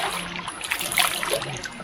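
Naturally warm spring water in Ekiti State, Nigeria, trickling and splashing steadily nearby, a continuous watery babble with no talk over it.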